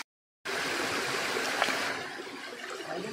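Deep, cold stream water in North Bengal near Kalimpong, flowing as a steady broadband rush that starts abruptly after a short silence, close and fairly loud with no voices.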